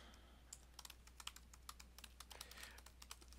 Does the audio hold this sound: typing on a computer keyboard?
yes